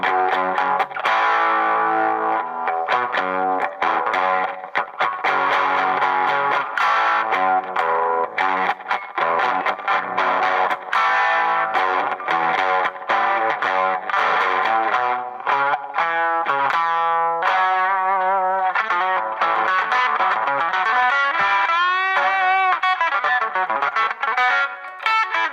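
Distorted Stratocaster electric guitar playing a run of chords and single notes with a chorus-like effect, loud and alone with no voices, ending in quicker high melodic lines.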